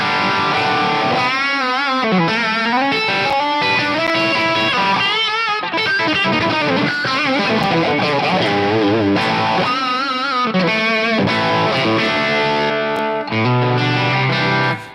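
Electric guitar run through tube drive distortion on a Fractal unit, playing loud saturated chords and sustained bent lead lines continuously, with no talking.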